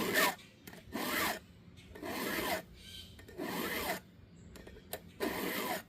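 A round file rasps across a chainsaw chain's cutting tooth in steady back-and-forth strokes, about five firm, solid passes with short pauses between them, close and alone.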